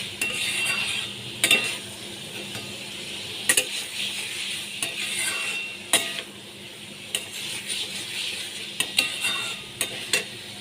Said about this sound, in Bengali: ভাজা আলু দিয়ে ভালো করে নেড়ে চেড়ে নিচ্ছি আমি